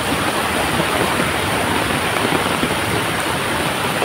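Floodwater surges down a swollen river in a Konkan village, producing a steady, dense hiss and roar like heavy rain, continuous and fairly loud without speech.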